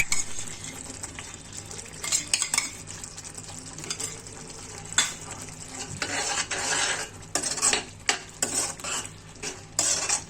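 A utensil scrapes and stirs pav bhaji vegetables with butter in a pan, giving repeated close clinks and scrapes over a soft sizzle, with no talking.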